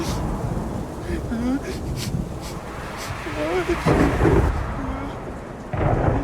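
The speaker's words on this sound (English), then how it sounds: "The storm raged. Trees moaned outside." Rolling thunder with steady rain in a storm at night, continuous and fairly loud, a low rumble swelling midway, with a voice speaking over it.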